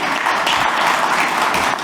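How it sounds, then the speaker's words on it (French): Audience applause at a panel conference on trade and strategic shifts: dense, steady clapping from a large crowd, loud and continuous for the whole stretch with no voices over it. "Et je crois qu'il mérite les applaudissements"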